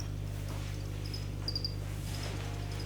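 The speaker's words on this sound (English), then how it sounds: "I actually spent a bit of time wild harvesting crickets, like there's one over there, one over there." A cricket chirps in short bright bursts over a steady low hum, close and fairly faint, with no voices.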